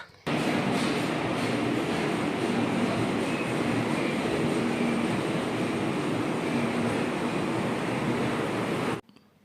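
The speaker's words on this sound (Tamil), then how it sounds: "நைட்டு பன்னெண்டரை மணிக்கும் கோயம்புத்தூர் ஸ்டேஷன் பார்த்தீங்கன்னா ரொம்ப பரபரப்பாக இயங்கிட்டு இருக்குங்க" A steady, loud rumble of a train at busy Coimbatore railway station at night, continuous rolling noise that holds for several seconds and cuts off abruptly.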